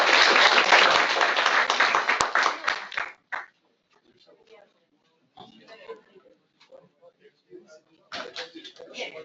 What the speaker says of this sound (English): let's give a big applause.